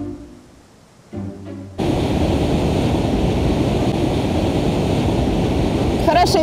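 Steady, loud roar of a waterfall heard from a viewing platform, a constant rushing wash that starts suddenly after a short quieter opening and then holds unbroken.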